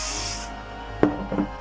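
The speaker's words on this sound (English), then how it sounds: "Spray this down." Hairspray hisses from a can in a half-second burst onto a pin-up victory-roll hairstyle, followed by quieter rubbing and tapping noises close by.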